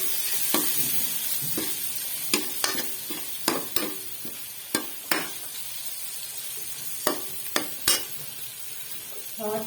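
Finely chopped tomatoes stir-fried in a pan of masala for a potato pakora curry, a steady close sizzle broken by repeated sharp scrapes and knocks of a spoon against the pan, with no talking.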